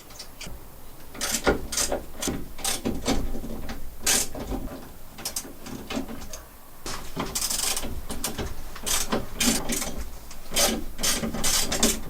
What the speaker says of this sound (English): I'll grab a screwdriver, a spanner, and or a wrench as you Americans like to call them, and get these out